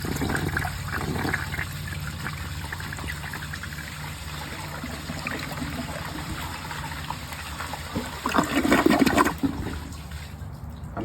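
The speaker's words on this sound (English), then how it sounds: "you might notice that the flush will be shorter" A 1968 American Standard Cadet toilet flushing, a steady low watery rush and trickle that swells into a louder gush near the end before tapering off, heard close in a quiet bathroom.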